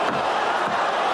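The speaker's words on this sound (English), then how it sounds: "Listen to that sound of the crowd. It's like a dog howling." An arena crowd at a Pride mixed martial arts fight event gives a sustained, loud howling roar, a dense steady wall of voices that holds without a break.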